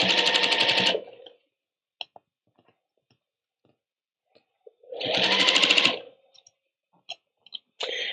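A sewing machine stitches quilt fabric in two loud bursts of about a second each, separated by quiet stretches with small clicks and handling noises, ending as a third burst begins.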